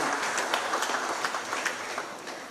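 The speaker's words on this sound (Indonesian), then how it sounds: "Berikan tepuk tangan kepada Bapak Pramono Anung." An audience at a Jakarta provincial development planning meeting claps for Governor Pramono Anung, a dense, steady patter of many hands heard from across a hall.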